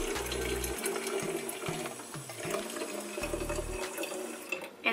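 Warm water runs from a tap in a gurgling stream, broken by low mechanical humming pulses. A clatter comes near the end. No one speaks.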